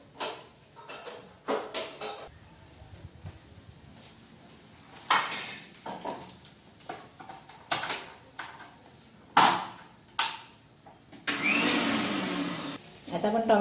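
A mixer grinder blends two tomatoes into purée in a home kitchen. Scattered clinks and clatter of utensils come first, then a loud, steady motor whir takes over near the end.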